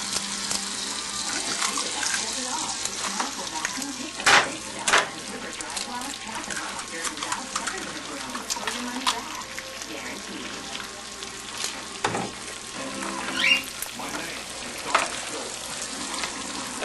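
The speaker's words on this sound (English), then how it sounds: "We'll let the butter stop boiling." Butter sizzling and crackling steadily in a hot pan while an egg steak fries, a continuous hiss with scattered pops, with a person talking now and then.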